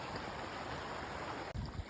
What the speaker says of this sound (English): Got a little stream to forge here